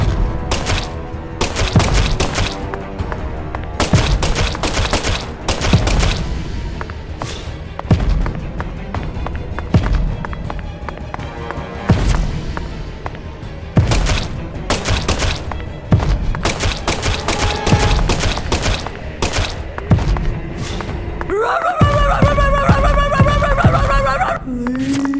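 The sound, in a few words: gunshots in the video game Deadly Premonition 2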